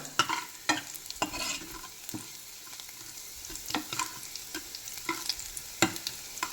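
Mustard seeds and onions fry in hot ghee, giving a steady crackling sizzle broken by frequent sharp pops and spits. The sound is close and moderately loud, with no voices.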